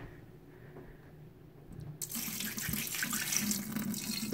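Water from used home water filter housings, dirty after about six months, poured out into a sink; a quiet room before the pour starts, then a steady, close splashing flow that continues to the end.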